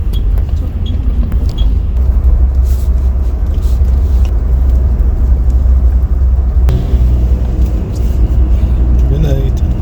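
A VIP capsule sleeper bus travels overnight toward Dalat, its steady low engine rumble and road noise filling the cabin continuously, with a brief hiss like an air brake partway through.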